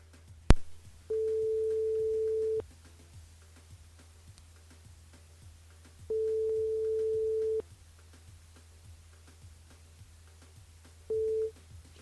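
Phone line tone while calling a radio listener during a French-language live radio show: steady beeps, each about a second and a half long, repeating with long silent gaps between them, plus a short final beep.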